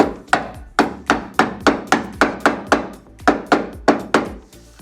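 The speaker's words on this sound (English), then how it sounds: "Okay, so we've got a soft hammer here." A soft hammer taps metal while a front bumper winch receiver mount is fitted: steady, evenly spaced blows, about fifteen sharp knocks with short ringing decays, loud and close with no talking.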